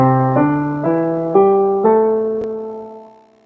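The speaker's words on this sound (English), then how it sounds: "So the pentatonic scale, penta meaning 5, sounds like this." Piano notes climb one at a time up a pentatonic scale, each clear tone ringing into the next, ending on a sustained note that slowly fades.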